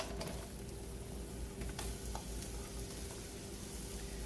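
Chopped shallots hiss and crackle in a hot pan previously used to sear salmon, a dense, steady close-up sizzle with a few faint scrapes.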